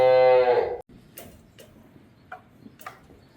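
A farm cow lets out one loud, close moo as the herd is let out in the evening after rain, followed by faint ticking and soft scattered knocks.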